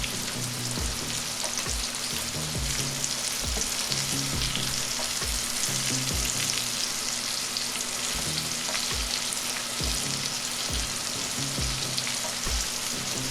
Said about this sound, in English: Look at them frying up so good.